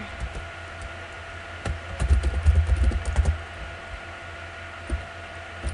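Fast clattering keystrokes on a computer keyboard come in a dense burst of several seconds, with a few isolated taps before and after, close and clear.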